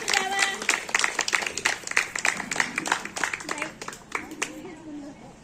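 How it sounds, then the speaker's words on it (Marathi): Audience applause greeting a woman's arrival at a Marathi stage event: dense, close clapping across the whole span with voices and cheers mixed in, thinning toward the end. "टाळ्यांचा गजर."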